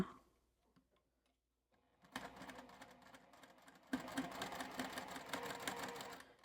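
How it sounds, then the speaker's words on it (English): A sewing machine stitching fabric for an apple-shaped coaster: after a quiet start with a few faint clicks, the needle runs in a steady rapid chatter, pausing briefly and then resuming louder and close up. "Just sewing along, turning it roughly 1/4 inch there."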